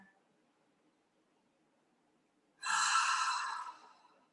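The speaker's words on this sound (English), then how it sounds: "2 more breaths here." A single deep breath during a yoga session, heard as a long, loud airy exhale that comes after a quiet pause and fades over about a second and a half, with no speech.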